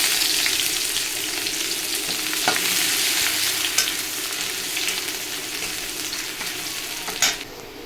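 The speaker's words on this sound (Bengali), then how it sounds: "পেঁয়াজ কুচুনো পেঁয়াজ দিয়ে দেবো" Chopped onions fry in hot oil in a wok, a steady dense sizzle throughout with occasional brief crackles and stirring clinks, close and fairly loud, no voices.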